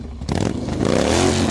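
Motorcycle engine revving up, a close and loud rising whine that climbs in pitch after a short quiet start, with no voices.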